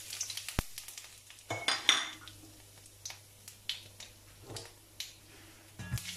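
Cloves, cardamom, cinnamon and cumin go into hot oil. The sizzling is quiet and close, with soft pops and light clinks and scrapes of a utensil against the pan.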